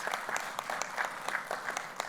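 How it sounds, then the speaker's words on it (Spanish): An audience applauds a teacher at a forum marking Pansexual Pride Day. The clapping is faint and steady, with a few sharper claps standing out above a soft wash of sound. "un aplauso para la maestra, por favor, si son tan amables"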